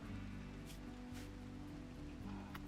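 Steady rain pattering down in the Rimworld colony game, a continuous soft hiss of drops with a few brighter taps, quiet and even throughout, no voices.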